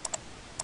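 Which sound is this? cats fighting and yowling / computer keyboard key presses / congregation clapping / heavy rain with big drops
computer keyboard key presses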